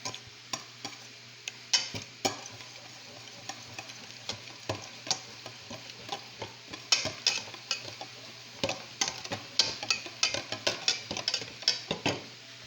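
Meatball mixture for kofta is worked by hand in a bowl, producing repeated soft squelching and tapping strokes in an irregular rhythm over a faint steady hum, with no talking.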